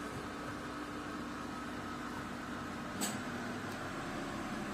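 A car engine idles at about 1000 rpm with the air conditioning on, a steady low hum and airy blower noise, constant and close, with a brief click partway through.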